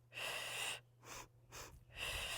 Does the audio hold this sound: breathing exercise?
yes